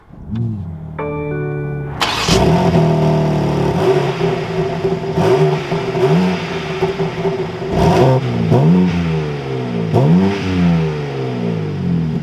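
A 2023 BMW M4 Competition Convertible xDrive chimes, then its engine fires with a sharp loud start and settles into idle. It is revved repeatedly in rising and falling blips, close and loud, with no talk.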